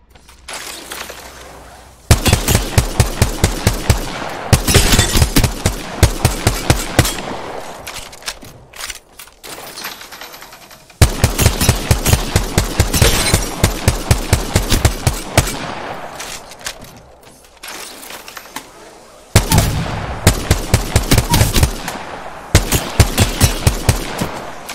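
Rapid automatic gunfire in Apex Legends, fired at moving training dummies while riding a zipline: three long, loud bursts of dense rattling shots with short pauses between them and no talk.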